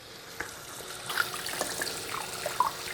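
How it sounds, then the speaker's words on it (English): Tap water running into a big bowl to rinse tripe, a steady close splashing fill with bubbling gurgles and a few small plinks. "going to fill up this big bowl with water and I'm going to rinse them out really well"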